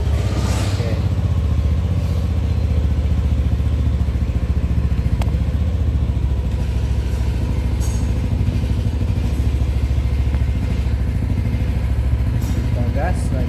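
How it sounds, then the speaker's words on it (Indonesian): A Yamaha NMAX scooter engine is started and keeps running, a steady loud close-up hum and clatter throughout, with a voice talking over it. "Kita nyalakan motor."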